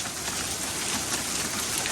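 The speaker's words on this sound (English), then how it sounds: "now it's hailing again" Hail and rain pelt down outside during a winter storm with high winds, a dense, even hiss of tiny impacts that stays constant and fairly loud throughout, with no voices.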